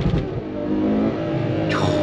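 Ferrari 812 Superfast V12 engine accelerating on a German autobahn: a loud, rising harmonic howl climbs steadily close by, with a sharp shift in pitch near the end, and no voices.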